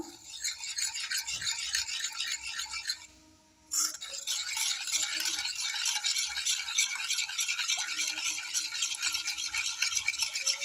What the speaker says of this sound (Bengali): এইভাবে বেশ কিছুক্ষণ নাড়িয়ে নিতে হবে, চিনিটা গলে যাবে